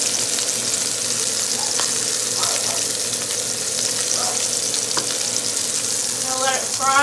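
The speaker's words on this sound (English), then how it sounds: "So I've got my pork steak in the fry pan" A pork steak sizzling in a fry pan, a steady close hiss of frying with a few soft clinks and shuffles near the end.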